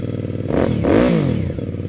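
A QJ Motor cruiser motorcycle's exhaust revs up close, climbing to a loud peak and easing back down over about two seconds, with a steady idle burble beneath.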